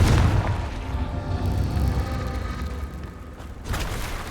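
A deep rumbling blast from the Confringo fire spell in Hogwarts Legacy, heavy low boom rolling and fading over about four seconds, followed by a second burst near the end.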